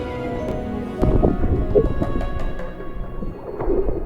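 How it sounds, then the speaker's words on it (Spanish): Rain falls with thunder on the Matacanes canyoning route near Santiago, Nuevo León, Mexico: a low rolling rumble swells about a second in and continues under a steady hiss of rainfall, with no one speaking. "Empezó a llover y no me quiero mojar ya."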